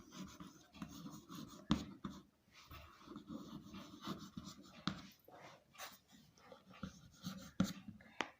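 Someone writing on a board during a maths lesson on circles: soft, steady scratching strokes with occasional sharper taps, close and quiet.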